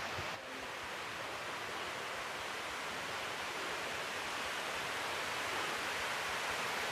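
Small waterfalls stream down the rocks near the Goramghat Shiv temple, heard from beneath a bridge as a steady, dense rushing wash of water that holds even and unbroken throughout.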